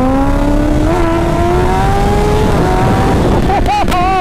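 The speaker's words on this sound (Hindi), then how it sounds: "भगा दे भाई ये वाली एयरो एग्जॉस्ट के साथ।" A Kawasaki ZX-10R fitted with an aero exhaust screams loudly up through the gears in a race, its high engine note rising steadily with a quick shift and a harsh rev burst near the end.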